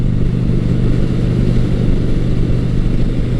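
A Honda Shadow Spirit 750 V-twin cruiser at a steady 55 mph, its engine giving a continuous low rumble that stays loud and even throughout, with no voices.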